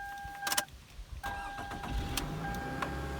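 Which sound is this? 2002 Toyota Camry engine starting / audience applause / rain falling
2002 Toyota Camry engine starting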